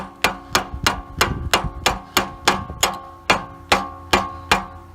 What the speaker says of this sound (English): You always want to use a rubber hammer, soft face hammer.